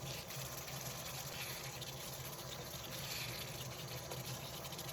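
Water poured and filling into a simmering curry of yogurt and milk with coconut, a steady broadband gushing wash that runs continuously at moderate level without any voices.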